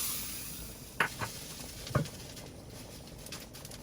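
Mustard seeds, asafoetida and curry leaves crackle in hot oil as a tempering for a sardine mango curry, a faint steady sizzle broken by two sharp pops, quiet and close, with no voices.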